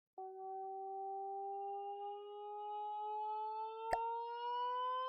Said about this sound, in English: Sounds like an air raid siren.